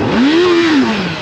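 A superbike engine revs loudly and close, its pitch sweeping up, holding, then easing back down in one smooth rev with no talk over it.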